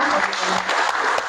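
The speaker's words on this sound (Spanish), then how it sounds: "Y pido un fuerte aplauso para él." Audience applause at a book presentation for a work in the Tsotsil language, a steady dense clatter of many hands clapping close by throughout the short stretch, with no talk over it.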